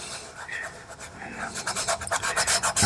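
A finger rubbing pastel pencil into paper on a sunset drawing, a soft dry scratchy rasp that grows denser and louder into quick rhythmic back-and-forth strokes, heard close with no talking.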